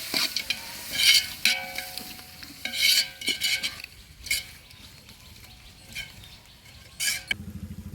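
Tomatoes with turmeric powder sauté in a pan and are stirred, making intermittent scraping and sizzling bursts with short gaps between strokes, close and moderately loud with no talk.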